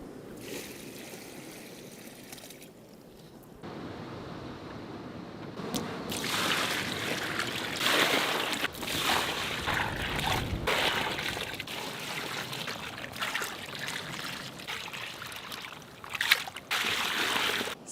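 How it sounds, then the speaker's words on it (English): Buckets of water, roughly 120 litres in all, dumped onto beach sand in front of a 4x4's tires, heard as repeated splashing gushes and trickles outdoors with breaks between pours and wind noise. "So I've dumped 3 bucketfuls in front of each tire, so roughly about 120 litres of water."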